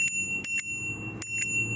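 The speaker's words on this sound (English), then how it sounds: "And here's the bell." A bell on a Horizon electric scooter rings in several quick, bright dings, some paired and some single, over a quiet low background hum.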